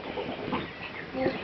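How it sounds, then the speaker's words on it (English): Chickens cluck in short, soft bursts on a farm with goats nearby, a steady low scatter of fowl calls running through the whole moment, with voices faintly mixed in. "Oh, chickens."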